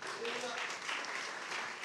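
A church congregation claps for the Lord during a Spanish-language sermon, soft, fairly steady hand claps heard at a distance, with voices mixed in among them.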